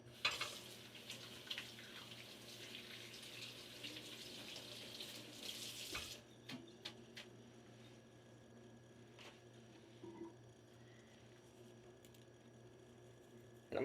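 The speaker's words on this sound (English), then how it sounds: "Let me wash my hands real quick." A kitchen tap running as hands are washed while preparing a sheet pan Thanksgiving dinner, a quiet steady stream of water that stops partway, followed by faint clicks and small handling sounds.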